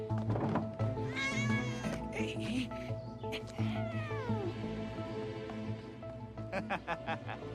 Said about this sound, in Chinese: 这冉儿的房间里哪儿来的猫啊？